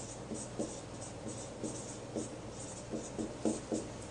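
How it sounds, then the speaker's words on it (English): Pen or marker scratching out a word on a board or paper, a series of short, light strokes in irregular bursts, close and quiet, with no talking. "let's go ahead and write chloroplast."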